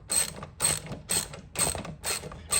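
A ratchet socket wrench clicks in five quick bursts while tightening a bolt on a Vittorazi Moster 185 MY22 paramotor frame, close and crisp with short pauses between strokes.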